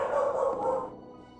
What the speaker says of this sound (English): It's a dog barking in the distance.